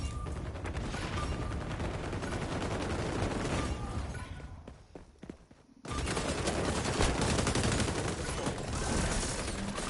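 Sustained, dense bursts of MP5 submachine gun fire from the XDefiant shooter game, loud and continuous, with a short lull of scattered shots midway before the rapid volleys resume at full strength.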